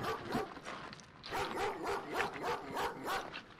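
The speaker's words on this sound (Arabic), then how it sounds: "كلب كلب حراسة" A guard dog barks repeatedly in short bursts, fairly close, outdoors near a pool at a rural spot near Essaouira, with brief pauses between barks.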